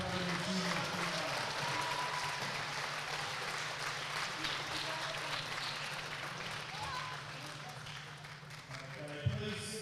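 Crowd clapping at a youth climbing championship podium ceremony, a dense, steady wash of applause lasting throughout with scattered voices underneath and a sharp knock near the end.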